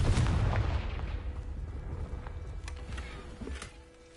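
Confringo fire spell explosion in Hogwarts Legacy, a heavy booming blast at the start that rolls off into a fading rumble, followed by faint crackling and small pops.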